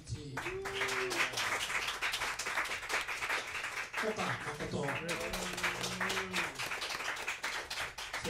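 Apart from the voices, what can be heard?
audience applause at a jazz club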